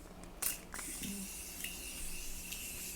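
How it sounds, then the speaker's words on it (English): A couple of quick, soft bursts of Morphe makeup setting spray hiss close by against a quiet background, with a faint click in between. "Quickly going to set my face with the Morphe setting spray."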